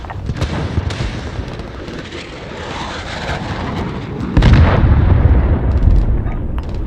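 Cruise missile strike explosions rumble and boom through a Call of Duty: Modern Warfare Ground War battle, a continuous loud barrage of blasts with a heavier, louder impact surge in the second half.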